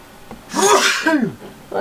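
A single loud sneeze bursts out in a boat engine room, rising sharply and trailing off, with a brief voice sound close by afterward.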